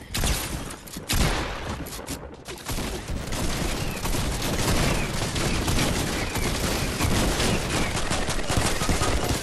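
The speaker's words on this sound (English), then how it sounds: "I'm getting shot from everywhere up in here" Heavy gunfire in a video game firefight, a dense, unbroken barrage of overlapping shots and bursts coming from all around, loud and continuous with no voices.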